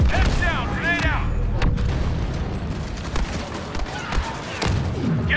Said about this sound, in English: Heads down! Grenade out!